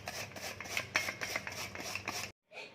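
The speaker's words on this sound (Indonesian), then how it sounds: "Ini bengkuangnya juga kita parut ya." Jicama rubbed firmly against a hand grater in a home kitchen, giving about a dozen quick, even rasping strokes close by. A short silence follows, then one more stroke.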